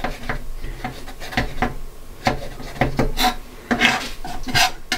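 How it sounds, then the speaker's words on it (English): A knife trims excess pastry around the rim of a pie dish for a steak mince and cheese pie, producing close, uneven scraping and tapping against the dish edge in short irregular strokes. "go around the outside, trim off your extra pastry"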